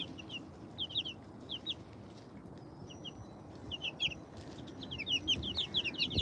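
Young bantam chicks peep in quick high chirps and soft clucks close by outdoors, clustered in scattered bursts that grow busier toward the end over steady low background rumble, with no talking.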